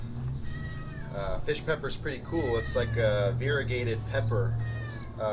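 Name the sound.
pet cat meowing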